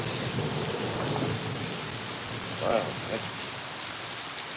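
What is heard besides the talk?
heavy rain with thunder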